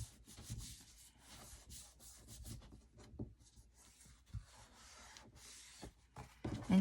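Hands pressing and rubbing along the seams of a handmade chipboard album, giving soft, close scuffing and sanding-like friction sounds in irregular strokes with a few light taps, fairly quiet and without talk.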